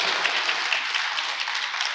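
A church congregation applauds together during a Sunday service: dense, steady clapping from many hands, filling the room for a couple of seconds with no talk over it.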